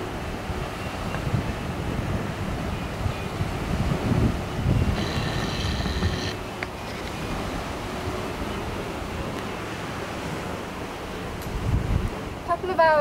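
Surf washing onto a private beach in the Maldives, a steady soft roar of breaking waves with wind noise across the microphone, close and continuous throughout.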